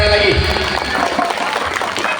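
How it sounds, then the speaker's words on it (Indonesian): Lively crowd applause at a large Maulid Nabi celebration at an Islamic boarding school, a dense, continuous patter of many hands lasting a couple of seconds with voices mixed in. "Tepuk tangannya meriah sekali lagi."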